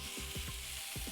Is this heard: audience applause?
no